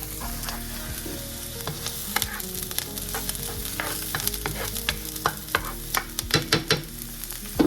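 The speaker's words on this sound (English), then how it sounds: "Frying them before you throw anything else in really brings out the flavor of the onion." Onions frying in olive oil in a cast iron skillet, a dense close sizzle broken by frequent scraping stir strokes and clicks that grow busier toward the end, no talking.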